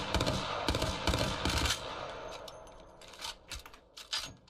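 A Hemlock rifle in the Apex Legends video game fires repeated sharp bursts, loud and close at first, then sparser and lighter shots follow amid clicks and small clatters.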